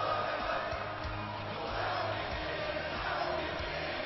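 Wrestling arena crowd in WWE 2K18 roaring and cheering in a steady, dense wash of noise, with scattered shouts rising above the sustained din and no clear speech.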